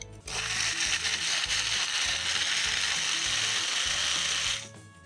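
A blender whirring continuously for about five seconds as it blends fruit for a drink, a loud, steady motor roar with a rattling, grinding edge that stops abruptly.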